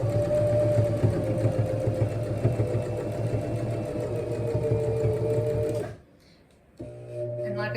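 A sewing machine chain pieces quilt fabric with a continuous mechanical whirr that holds steady for about six seconds, stops briefly, then starts up again.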